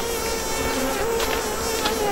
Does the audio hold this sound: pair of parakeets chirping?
no